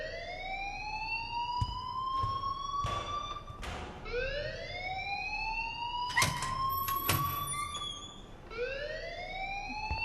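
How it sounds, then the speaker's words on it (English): Rising, wailing siren-like alarm tones repeating in a steady cycle in the video game Life Is Strange, fairly loud, with a few sharp thuds and clicks over it and no talk. "please turn off that alarm since that's your job"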